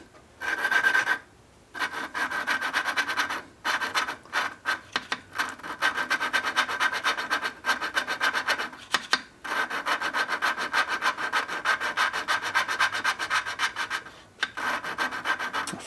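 Coarse, gritty rubbing and grinding as a small Briggs engine valve is lapped with coarse compound, in repeated back-and-forth bursts with brief pauses, close and fairly loud, with no voices.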